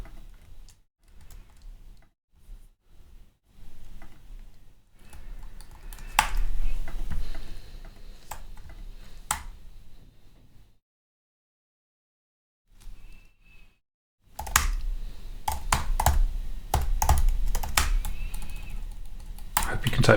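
Computer keyboard typing comes in scattered bursts of close, sharp key clicks, with quiet gaps and a denser, louder run of keystrokes near the end.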